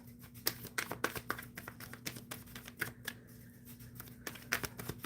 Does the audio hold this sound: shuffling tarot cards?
yes